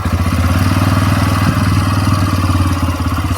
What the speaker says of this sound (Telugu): సో ఇప్పుడు వెహికల్ని స్టార్ట్ చేస్తున్నాను. దీని యొక్క కొత్త రిఫైన్డ్ ఇంజన్ యొక్క ఫీల్ అండ్ ఆ బీట్ ఎలా ఉందో మనం డైరెక్ట్గా విందాం.